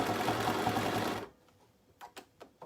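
A sewing machine stitches binding onto an embroidery project, running loud and steady for over a second, then stops, leaving a few soft clicks and handling knocks.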